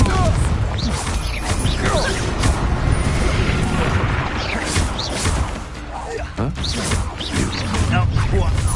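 Crashing blasts from a Confringo blasting spell in a wizarding video game burst over dense, loud game action, with repeated booms and smashes filling the whole stretch.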